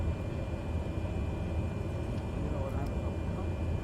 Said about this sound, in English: Is the airplane too loud?